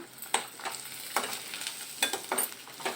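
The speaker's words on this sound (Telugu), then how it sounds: "ఒక రెండు నిమిషాలు వీటిని మంచిగా ఫ్రై చేసుకోవాలి" Onions and spices being fried and stirred in a pan for a Shahi Paneer base, with a soft steady sizzle broken by several sharp scraping stirs.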